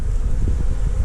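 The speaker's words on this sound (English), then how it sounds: "All right, couple bees in the top here" Bees buzzing at a collected swarm in a hive box, a steady close low drone that runs unbroken through the whole moment with no talk over it.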